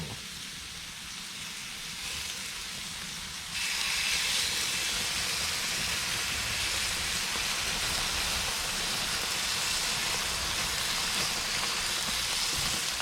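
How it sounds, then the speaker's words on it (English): Steady broadband hiss of venison backstrap on a hot grill, continuous and even for the whole stretch, stepping up slightly louder partway through with no voices. "I just flipped it again, and now we're letting this grill get hot"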